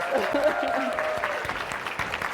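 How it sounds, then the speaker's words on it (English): Audience applause greeting a newly introduced association president as she takes the stage at a podcast live event, a steady wash of clapping with voices and cheering mixed in throughout. "Let's give her a round of applause."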